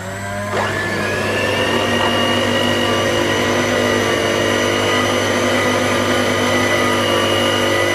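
An electric mixer beats red velvet cake batter on high, a loud, steady motor whine that spins up in the first second and then holds constant.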